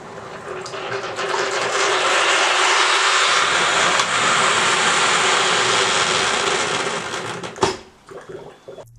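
A Breville VKJ142 Hot Cup hot water dispenser makes a loud, steady rushing roar with a hissy, bubbling texture for most of the clip as it finishes boiling, then cuts off abruptly into a few clicks and knocks.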